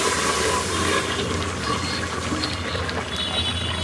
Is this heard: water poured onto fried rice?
yes